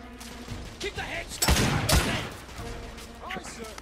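Gunfire in the third-person shooter The Order: 1886, a pair of loud close shots bursting near the middle amid battle noise, with someone talking over the scene.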